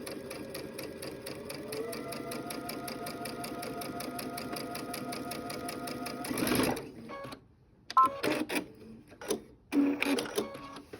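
A sewing machine stitches straight down across quilt binding ends in a steady, rapid mechanical rhythm for about six seconds, then stops, leaving a few brief handling noises and short bursts of movement.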